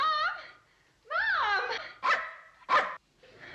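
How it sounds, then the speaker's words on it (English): A dog barks and yelps in a classic television sitcom scene, a whiny drawn-out yowl followed by two short sharp barks and a softer trailing whimper, close and clear. "it's a rude dog"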